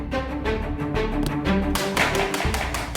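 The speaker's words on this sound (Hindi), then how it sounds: "अरे कितना दरवाजा ठोकोगे भैया?" Loud, rapid knocking on a house door in a Hindi TV serial, a dense run of sharp raps that grows heavier toward the end over a background music bed, with no talk.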